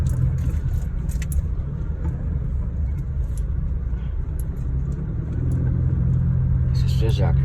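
A vehicle driving along a bumpy farm road in the early morning, a loud continuous engine and road rumble close up, with rattles and knocks from the rough track and voices talking over it.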